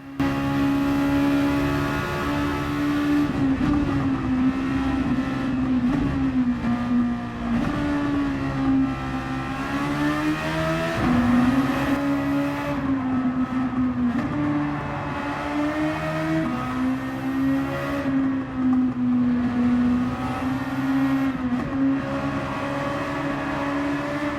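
A tuned Mazda B6ZE inline-four in Gran Turismo 7 revs high and loud, holding a strong droning note that rises and dips repeatedly through shifts, with no talking.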